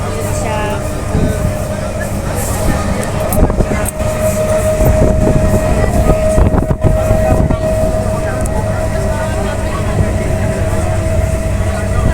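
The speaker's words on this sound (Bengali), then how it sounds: "ট্রেন এসে গেছে" A train rolls in with a heavy, steady rumble and a sustained high squeal of brakes. Voices and station noise sit faintly in the background.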